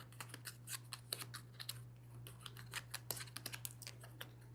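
Cards from a tabletop card game being shuffled by hand, a faint series of quick, crisp riffling clicks and snaps in uneven rhythm over a low steady hum.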